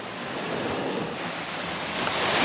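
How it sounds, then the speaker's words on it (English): Ocean surf breaking on the beach at Playa los Cocos, a loud, continuous broadband roar of waves and wind that swells slightly toward the end, with no voices. "These boys are gonna brave the waves."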